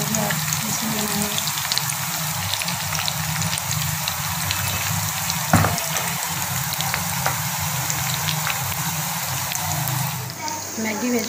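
Maggi vegetable pakoras frying in oil in a kadhai, a steady dense sizzle and bubbling throughout, close and loud, with a short clink partway through.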